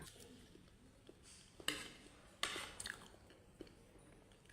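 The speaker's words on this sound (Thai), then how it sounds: "มาเพื่อนๆทานกล้วยน้ำว้าด้วยกัน" Someone eats Nam Wa bananas up close, making soft, quiet chewing and squishy bites with a couple of louder moist smacks and faint utensil clinks.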